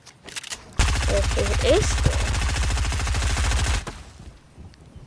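Sustained rapid SMG fire in a video game, a loud dense burst of about three seconds with a short voice heard faintly before it starts.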